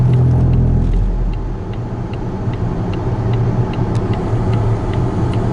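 A 2023 Volvo XC90 B6 Ultimate driving over center-line rumble strips on a Virginia road at night, a loud low droning rumble at the start easing into steady road noise with faint regular ticking.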